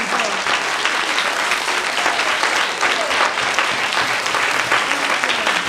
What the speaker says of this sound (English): Put your hand together and give God a big applause.